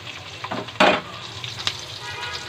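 Onion and green chili sizzle in oil on a stove, a steady close crackle broken by one sharp burst of spatter as the pieces hit the pan, with no talk.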